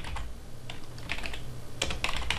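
Typing a preset name on a computer keyboard: a few quick soft key clicks, then a pause and a faster run of taps near the end, close and quiet over a faint background hum.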